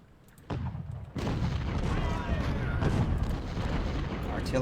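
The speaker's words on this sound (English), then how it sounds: "Artillery's firing's already hitting us." Artillery fire in the Civil War strategy game Ultimate General: Civil War, with two heavy booms and then a sustained rumbling barrage of cannon shots, loud and continuous under a faint voice.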